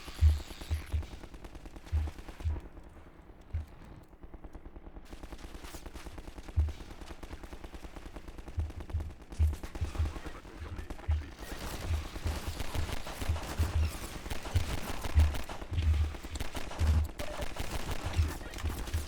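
Pistol shots in the Half-Life 2 video game ring out as scattered single reports at irregular intervals, fairly faint, among game ambience and other background noise.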